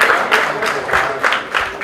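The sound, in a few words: audience applauding for the cause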